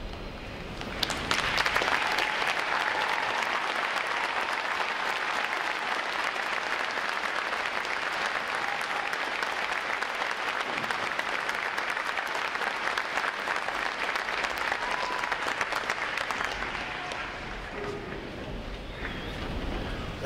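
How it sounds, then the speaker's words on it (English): A large audience at a U.S. Navy recruit graduation applauds the veterans in attendance: a sustained, loud roar of clapping starts abruptly, holds steady for about fifteen seconds, then tapers slightly. "please rise so we can give you a round of applause"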